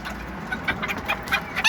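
Bantam chickens give short, soft clucks and brief squawks in scattered bursts, fairly close by, with a faint background hum and no talking.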